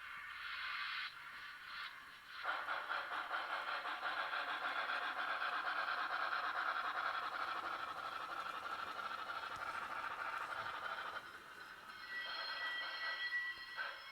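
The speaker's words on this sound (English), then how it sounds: "You hear how the chuffing kind of stopped, and all of a sudden, I mean, we're still making forward motion." N scale Broadway Limited T1 Reading model steam locomotive sound system, a steady rhythmic chuffing with hissing that runs for most of the stretch before briefly cutting out, close and alone.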